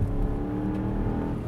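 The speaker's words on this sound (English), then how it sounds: "Actually, I don't think I've floored it yet, so let me..." A 2023 Subaru Ascent's engine pulls hard with the throttle floored: a steady, loud, low droning hum that holds for about a second and a half, with no voices.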